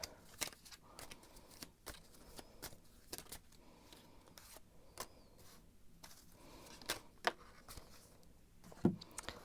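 Tarot cards being shuffled by hand, a quiet run of soft riffling flutters and taps with a few sharper card snaps, close and alone without talk.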